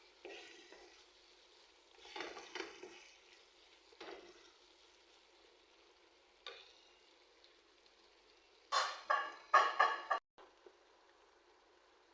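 Chicken pieces sizzle in a pan in short bursts as they are stirred, quiet frying between louder scraping, spattering moments near the end, with no talking.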